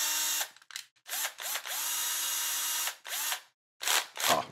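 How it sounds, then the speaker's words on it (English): A cordless electric drill with its clutch set very light drives screws while ball studs are fitted on a bearing build: several short whirring runs and one longer run, each stopping with a clutch ratchet clatter, close and loud. "We're going to use our electric drill, and we're going to set the clutch to very light."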